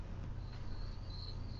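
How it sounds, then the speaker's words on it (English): Crickets chirping in a steady, high, continuous trill, faint and unbroken, with no voices over it. "You can never silence the crickets."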